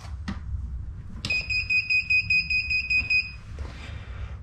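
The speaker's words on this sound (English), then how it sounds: "Oh, it makes some beeping noises." A machine-tool digital readout, just switched on, gives a run of rapid, evenly spaced high electronic beeps for about two seconds, close by, after a click, with a low hum underneath.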